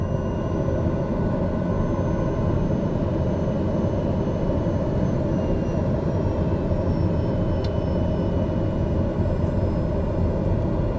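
An aircraft taxis at Toronto City Centre Airport in Microsoft Flight Simulator 2020, its engine a steady, loud, unbroken drone with a faint high whine, close and continuous throughout.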